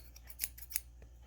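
Small scissors click and snip a few times in quick succession, close and quiet, with sharp metallic ticks against near silence.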